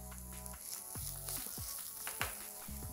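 Crushed garlic frying with Swiss chard stems in a hot pan gives a steady, close sizzle with a few brief stirring scrapes, all under background music.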